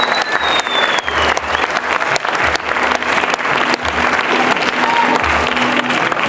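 An audience at a women's body fitness competition in Oslo claps loudly and continuously, with rhythmic thumps underneath and a few voices audible through the applause.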